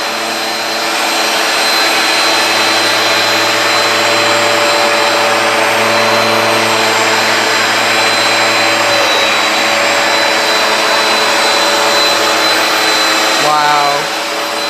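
A Hoover Power Dash carpet cleaner running a dry pass, with a loud, steady motor whine and suction roar held close and constant throughout, cutting off near the end.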